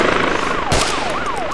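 A police helicopter in ArmA 2 (Takistan Life) beats steadily and loudly nearby. A rising and falling siren-like wail runs over it, and a heavy thump lands partway through.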